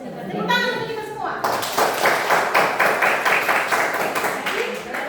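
A school class claps hands together during a maths lesson in a steady, rhythmic beat, loud and close, with children's voices mixed in at the start.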